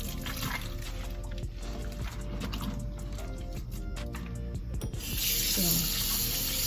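Cool water runs steadily from a tap for rinsing beans, gurgling and splashing nearby, growing louder and brighter as the pour picks up near the end.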